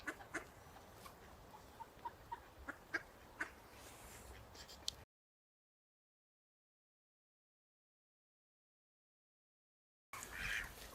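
Duck quacking on a riverbank during mudlarking, a series of short faint quacks over outdoor ambience, broken by a stretch of silence before the sound returns.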